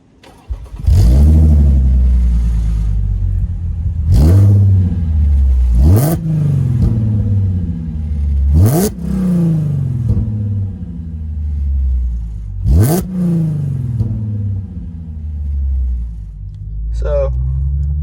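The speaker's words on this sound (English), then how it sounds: "probably gonna rev it here too" Audi 3.0T engine fitted with headers and running methanol, revved in a series of sharp blips that each rise and fall away, loud and close, with a rumbling idle between them.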